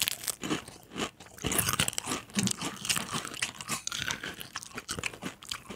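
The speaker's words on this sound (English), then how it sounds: "We're gonna eat a deep river snacks, salt and vinegar potato chip. It's a crunchy fried potato." Salt and vinegar fried potato chips being bitten and chewed up close, a steady run of loud, dry crunches and crinkly snaps with no talking.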